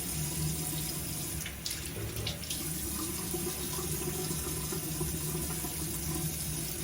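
Warm tap water running steadily into a sink, a constant close rushing hiss with no talking.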